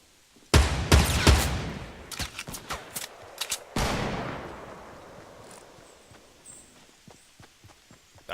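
Gunfire in Fortnite, with a loud rapid volley of close shots, then scattered single cracks, a second heavy burst, and fading sporadic shots that grow quieter and more distant.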